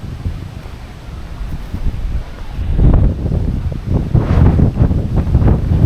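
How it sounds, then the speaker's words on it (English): Wind blowing hard into a microphone outdoors by the Plymouth waterfront, low rumbling buffets that build and surge in gusts, loud and close. "So it's a little bit windy"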